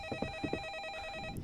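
A video game telephone rings in a horror game set in 1985, a steady electronic bell tone pulsing in quick repeated bursts, close and clear with no talking over it.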